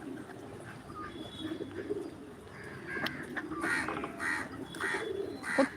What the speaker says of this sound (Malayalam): പ്രാവ് എന്തോ ഒരു ഭംഗി കാണാൻ